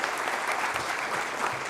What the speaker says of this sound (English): let's have a great round of applause for Green Computing Foundation